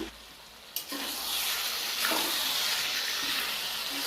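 Chicken curry meat and potatoes sizzle and fry in a pan in a village-style kitchen, a steady close hiss that jumps louder as more meat is added partway through, with no talking.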